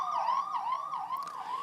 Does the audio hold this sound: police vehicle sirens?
yes